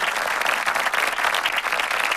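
An audience at a school annual day award ceremony claps continuously, a dense, even burst of applause with no let-up.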